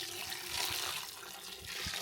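Boiling water pours into an Instant Pot in a home kitchen, a continuous splashing, bubbling stream that stays close and steady, fairly quiet and without speech.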